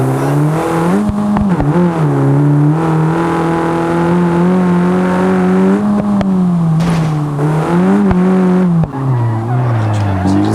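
A VW Golf 8 engine revs steadily in a realistic driving video game, a loud continuous drone with shifting pitch and tire skids, running nonstop for the whole stretch.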